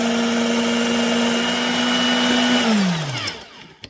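A belt sharpener running knife passes, a loud steady motor whine close by that holds for over two seconds, then drops in pitch and winds down as it stops, ending with a small knock.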